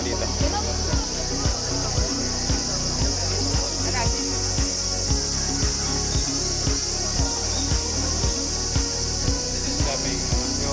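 Insects chirp outdoors in Japan in summer, a continuous shrill high drone with a rhythmic pulsing buzz underneath, steady and moderately loud throughout, with voices faintly present.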